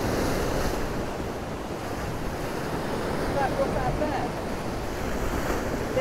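Rough sea at Ciudad Jardín, Palma de Mallorca, with waves rolling and breaking in a steady, moderately loud roar of surf, accompanied by wind noise on the microphone.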